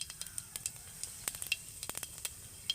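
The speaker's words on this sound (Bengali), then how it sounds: "এবার ওই তেলের মধ্যেই কিন্তু আমি দিয়ে দেবো গোটা জিরে দেব একটু কাশ্মীরি লঙ্কার গুঁড়ো" Whole cumin seeds and Kashmiri chili powder sizzle in a small amount of white oil in a pan, a quiet close hiss with rapid irregular crackles and pops throughout.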